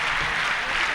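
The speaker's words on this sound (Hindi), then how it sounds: "एक बार जोरदार तालियों के साथ स्वागत करें।" Audience applause at a mushaira and kavi sammelan in Indore, a dense burst of crowd clapping that fills one brief second at steady loudness.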